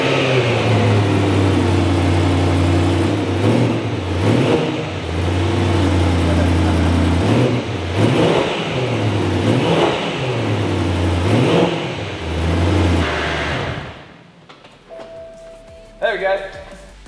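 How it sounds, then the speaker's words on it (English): BMW E92 M3 engine, a rebuilt crash car, revving repeatedly with rising and falling surges over a steady idle, loud and near, then cutting off; voices talk faintly near the end. "I wanted to rev it though."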